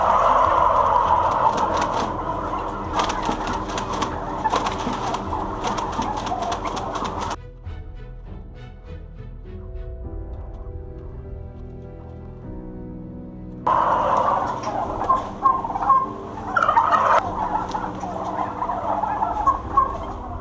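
Turkeys on a turkey farm gobble and call in a dense, continuous flock chorus, loud through most of the stretch, fading to a quieter murmur in the middle before the chorus swells again.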